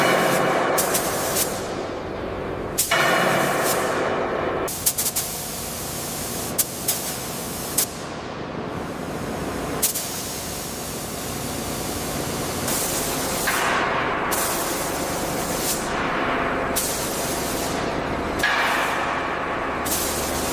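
Spray gun coating the lower quarter panel of a heavy monster truck: a continuous loud hissing spray in repeated bursts, with brief pauses between passes.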